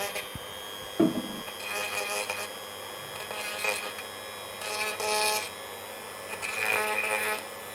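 Several short bursts of a small drill whirring, each a few seconds long with pauses between, fairly quiet and close.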